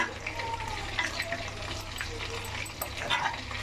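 Fried rice being stirred in a pan after a sprinkle of garam masala, a steady close sizzle of frying with scraping stirring strokes throughout, no talk.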